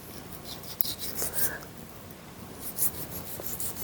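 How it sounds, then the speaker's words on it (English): Scraping fat off a freezing cold surface after butchering beef steaks, a continuous rasping rub with small clicks, close and steady, with no talking. "I'm just going to try and scrape this off as best I can"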